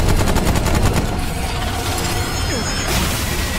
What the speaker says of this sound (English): It's shooting a fucking laser!